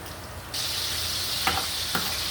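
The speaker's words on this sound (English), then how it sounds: "there's a few dumplings left and some yam frying together right now" Dumplings and yam sizzle and crackle steadily in hot oil, with a couple of brief clinks of a utensil against the pan.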